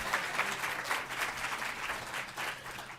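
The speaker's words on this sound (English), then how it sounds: "I'll take applause for everybody who helped on this." Attendees at the Colorado Pollinator Summit clap together in a steady, moderately quiet round of applause with gently pulsing intensity and a faint low hum underneath.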